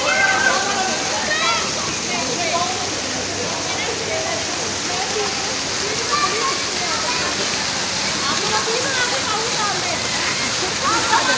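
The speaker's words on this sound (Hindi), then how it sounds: "ये वाटरफॉल बंद करवा दिए पानी, क्योंकि ना काफी ज्यादा हो गया, शोर कम हो गया।" Water splashes steadily from a waterfall at a farmhouse at night, a dense continuous rushing spatter that stays loud and unbroken, with voices and crowd chatter mixed underneath.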